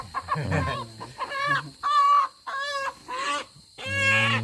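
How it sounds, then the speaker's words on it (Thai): Black-bone chickens cluck close by in a series of short bursts, a few drawn-out calls mixed in, no talking. "พวกไก่กระดูกดำเลยตัวนี้"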